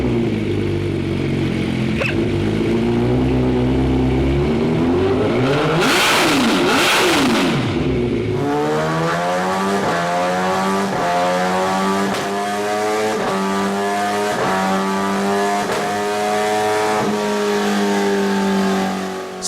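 MV Agusta F4 motorcycle exhaust revving hard and loud up close, engine note climbing and falling through repeated sharp rises with a howling high-pitched scream, no voices.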